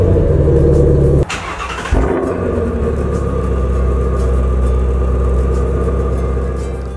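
A car engine runs at a steady, loud idle with a deep low rumble, briefly cutting out and restarting partway through, then settling back into a continuous hum.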